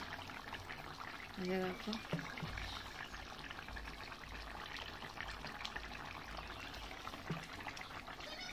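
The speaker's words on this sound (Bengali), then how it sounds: "এবার তোলার আগে দেবো একটু সর্ষের তেল" Mustard oil poured into a simmering fish curry with fried fish, aubergine and tomato, a soft continuous sizzle and trickle close by over a steady bubbling, with a person speaking briefly.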